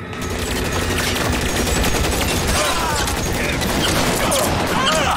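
Dense, continuous gunfire from a shootout in the video game L.A. Noire, rapid overlapping shots and bursts filling the whole stretch at high loudness with no pauses.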